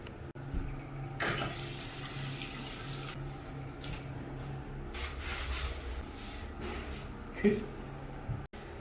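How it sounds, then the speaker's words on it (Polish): Shower water runs in a train station toilet, a steady hissing rush of spray that swells and dips slightly while pouring continuously, close by. "Czas na pierwszy prysznic w kibelku na stacji."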